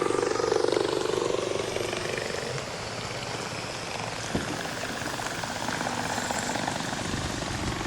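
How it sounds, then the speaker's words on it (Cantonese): An aircraft in the Arc Raiders video game flies close by with a continuous, droning engine rumble. It holds steady for the whole stretch, with one brief click partway through. No voices. "後邊飛機避一避先"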